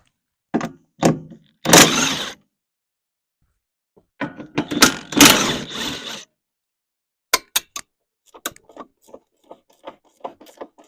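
A side shield panel is taken off farm machinery in bursts of rattling, clunking and scraping metal, followed by a run of sharp ticks and clicks, close and fairly loud.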